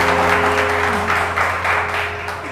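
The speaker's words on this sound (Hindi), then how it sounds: "आपा के लिए बहुत सारी तालियां बजाएं यार" Studio audience on a Pakistani TV morning show claps for a guest, a brisk, moderately loud patter of many hands over a steady background hum.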